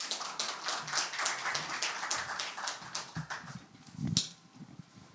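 A forum audience at a radiation-industry event applauds a speaker coming to the stage, with a brisk patter of hand claps that thins out toward the end and then one louder burst near the close.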